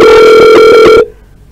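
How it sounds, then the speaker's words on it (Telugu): An old-style telephone bell rings loudly in repeated bursts for an incoming caller on a live call-in show, then cuts off abruptly into near silence. "కాల్ తీసుకుందాము."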